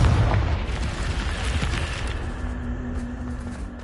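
A Confringo spell explosion in the video game Hogwarts Legacy, a loud, close, booming blast that rumbles and slowly fades over a few seconds.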